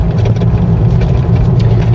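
A car engine runs steadily while driving, a continuous low rumble with road noise heard from inside the cabin, loud and unbroken, with no talking.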